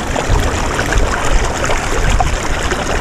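Water gushing hard from a pipe on a calamansi farm, a continuous loud rushing and splashing that holds steady throughout, close by with no voices.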